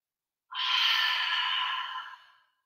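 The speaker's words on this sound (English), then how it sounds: "Taking a deep breath, inhale through the nose," One long, deep breath, a soft airy rush that swells quickly and fades out over about two seconds, close and alone in a quiet room during a yoga class.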